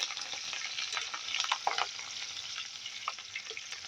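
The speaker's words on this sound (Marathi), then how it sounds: "आता आपण मिरची तळून घेऊया।" Green chillies fry in hot oil, giving a continuous close crackling sizzle with small spatters and a few brief scrapes, steady and fairly quiet throughout.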